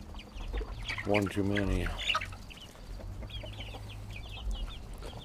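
Roosters and chickens in a hen house, with one rooster's crow near the start, then scattered clucking and chirps; someone speaks briefly over them.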